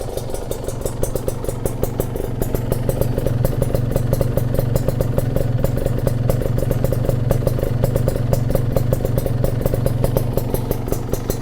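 A Kawasaki Ninja 150 two-stroke fitted with a PWK 28 carburetor idles steadily up close, a loud continuous buzzing engine note with fast rhythmic pulsing and no talk.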